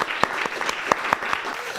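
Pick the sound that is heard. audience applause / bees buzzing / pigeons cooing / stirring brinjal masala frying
audience applause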